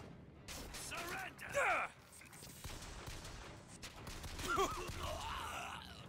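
Video game gunfire crackles in a few bursts, including a loud volley around the middle, mixed with shouting voices and busy game ambience.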